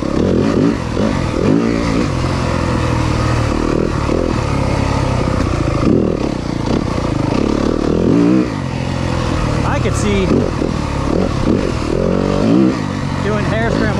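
A 2023 Yamaha 250FX dirt bike engine revs and shifts steadily while ridden through tight, flowing off-road hare scramble sections, loud and continuous with rising and falling pitch as the throttle changes.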